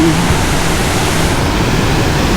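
Silvermine Bay waterfall in Mui Wo, Hong Kong, heard up close as a loud, dense, unbroken rush of falling water with no talking.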